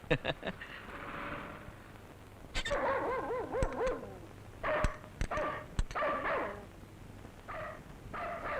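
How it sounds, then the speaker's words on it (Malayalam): A dog barks in short, sharp bursts several times, interleaved with whining yelps and other vocal sounds, fairly close. "ഈ പട്ടി എന്താ ഇങ്ങനെ കിടന്ന് കുരയ്ക്കുന്നേ"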